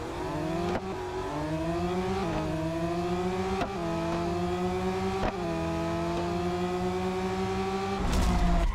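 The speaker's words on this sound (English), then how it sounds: "let's do the drag race" A car in a Real Racing 3 drag race screams through the gears. Loud engine pitch climbs steadily, drops with each quick shift, and builds again over several seconds.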